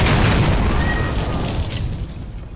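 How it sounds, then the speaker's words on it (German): A loud explosion in the shooter video game Battlefield Hardline: a heavy, close boom with a long rumbling tail that slowly fades. "kriegt ja jede Explosion in die Fresse"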